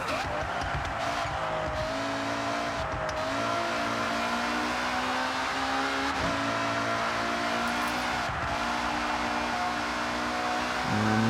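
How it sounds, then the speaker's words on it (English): A car engine in the racing game Forza Horizon 6 revs continuously for several seconds, rising and dropping in pitch through repeated gear shifts, loud and steady with no talk. "What I love about the engine as well is how responsive it is."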